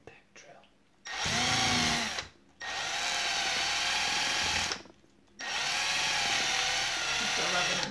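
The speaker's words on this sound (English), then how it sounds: "It wouldn't have done that if it wasn't the impact drill." An impact drill runs in three loud bursts of buzzing, rattling hammering, each a second or more long, separated by short quiet gaps.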